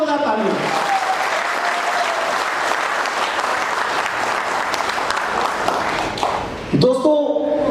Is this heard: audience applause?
yes